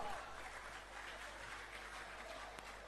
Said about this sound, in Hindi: एक बार जोरदार तालियां हो जानी चाहिए शिव भक्तों